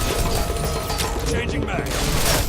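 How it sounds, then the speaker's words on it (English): Magazine reload in the video game Bodycount, with mechanical clicks and rattles heard amid dense gunfire and loud, continuous game action. "Changing mag."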